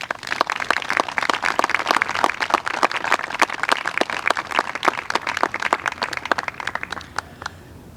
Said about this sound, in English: We would like you to give one more round of applause to these fine students and their families.